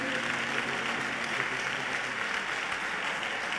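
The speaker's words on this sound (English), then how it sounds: "As I clap my hands and pray" Dense, continuous applause from many people clapping their hands during a church service, steady and moderately loud with no pauses, a crowd filling the space.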